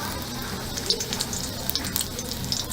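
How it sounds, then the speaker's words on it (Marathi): Whole spices and dried red chilies fry in hot oil for a Maharashtrian katachi amti, giving a steady close sizzle with scattered crackles and pops. "आणि लाल सुकी मिरची भाजून घ्यायची"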